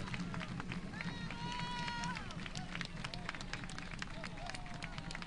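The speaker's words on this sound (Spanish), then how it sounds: "Fuerte el aplauso" Sustained crowd applause at the unveiling of a bust of Néstor Kirchner: dense, even clapping from a large audience, heard from some distance, with scattered voices calling out over it.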